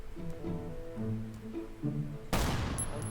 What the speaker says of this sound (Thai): มันมีเสียงปืนไง